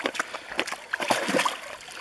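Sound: splashing in water while going skinny dipping

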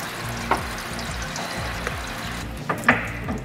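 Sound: water pouring out of car radiator

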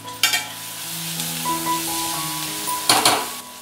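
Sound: onions sautéing in a pan

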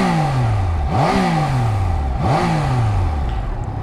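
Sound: Triumph Daytona 660 inline three-cylinder motorcycle engine starting

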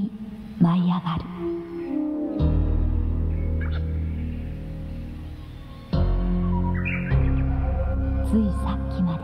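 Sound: birds chirping as they fly up in a forest

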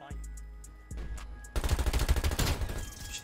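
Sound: LC10 gun firing in Black Ops Cold War video game

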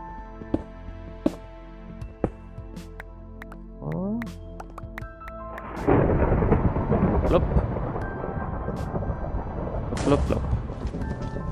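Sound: thunderstorm in a video game

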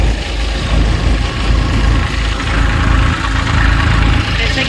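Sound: Gautam groundnut thresher 2021 model running

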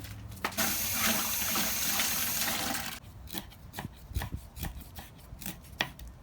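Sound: rinsing food under running tap water

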